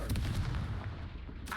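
Confringo blast spell cast in the video game Hogwarts Legacy, a heavy booming explosion that hits at once and decays over about a second and a half, loud and close, alone without talk.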